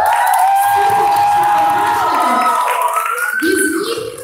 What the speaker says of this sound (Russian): давайте проводим громкими аплодисментами нашу